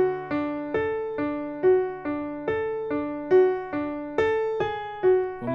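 Piano playing the intro walk-down of a pop song: about a dozen evenly spaced struck chords stepping downward, each ringing briefly before the next, played alone at moderate loudness.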